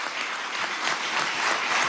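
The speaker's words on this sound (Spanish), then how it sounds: "le damos también un aplauso desde acá del Salón de Ayacucho" Warm, steady applause fills the Ayacucho Hall of Miraflores Palace during a health-sector contract signing, a continuous crowd clapping that holds evenly for the full moment without speech.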